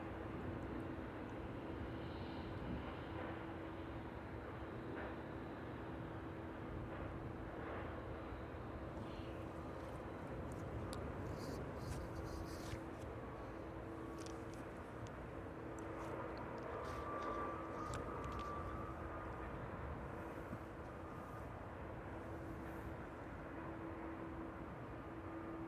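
A Boeing 737-800 with winglets, about fifteen years old, gives off a continuous steady engine roar with a low hum at East Midlands Airport in the evening, holding at a constant level throughout.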